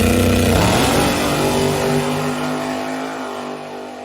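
Camaro fitted with Mustang struts in place of its A-arms pulls away on a test drive, its engine revving up loudly and steadily climbing in pitch as the car moves off, with no one talking.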